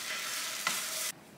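Beaten eggs with cheese hiss in a hot pan while being folded over, a brief close sizzle with a single scrape of the spatula partway through before the sound cuts off.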